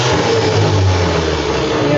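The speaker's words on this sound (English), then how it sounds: "this is called the starter free running current draw test" A rebuilt car starter motor free-runs on a test bench, not turning an engine, giving a loud, steady high-pitched electric whine with a constant hum and no pauses, close by.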